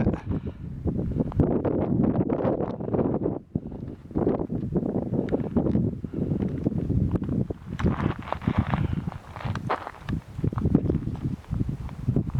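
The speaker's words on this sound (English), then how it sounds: "when the wind's blowing, you can't hear me anyway" Wind gusts buffet the microphone outdoors on coastal rocks at Punta Cap de Creus, loud and uneven rumbling bursts that rise and fall throughout.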